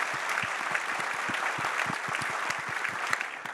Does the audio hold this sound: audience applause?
yes